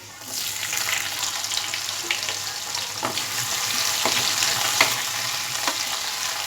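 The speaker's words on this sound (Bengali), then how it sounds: "পেঁয়াজটা হালকা কালার আসা পর্যন্ত ফ্রাই করে নেব" Chopped onion frying in a pan over medium heat, a steady close sizzle with occasional faint stirring clicks, heard alone without talk.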